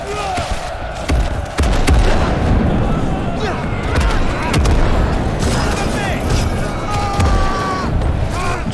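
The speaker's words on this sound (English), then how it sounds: "So much artillery." Artillery fire in the World War 1 battle game Gates of Hell, a dense, continuous barrage of booms and rumbling blasts with scattered gunfire layered throughout, steady and loud for the whole stretch.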